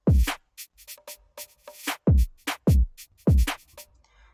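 Deep, booming 808 bass hits with gliding pitch drop in an FL Studio NY drill type beat, landing in a syncopated pattern alongside crisp hi-hats and percussion, loud and up front with no voices.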